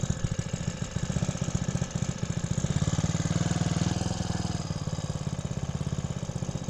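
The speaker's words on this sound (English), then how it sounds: "So you want it to have the lowest idle it can have, yet still idle solid" A small engine on a motorized cooler idles steadily at close range, a rapid even chugging pulse holding a low, smooth idle throughout.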